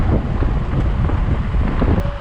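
Heavy wind buffeting and roaring steadily at close range inside a Peugeot 207 CC 1.6 HDi driving with its convertible roof down on a cold day, continuous and loud with no talk.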